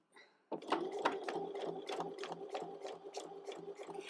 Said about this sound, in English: So let's just do a couple of backward stitches.